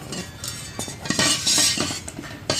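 Stainless steel serving spoons, small and medium sizes, clinking together in a series of bright metallic chinks and rattles, close and fairly loud.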